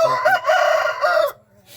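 A rooster crows once, loud and close, a long rising-then-held cock-a-doodle-doo call that cuts off sharply, followed by a brief quiet tail.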